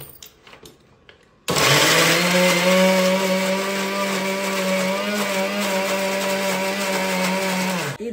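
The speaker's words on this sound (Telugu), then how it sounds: "మిక్సీ పట్టుకుందాము." Mixer grinder grinding fresh coriander for green chicken masala, starting suddenly after a quiet moment and running as a loud, steady motor whine with a rough churning buzz, close and continuous until the end.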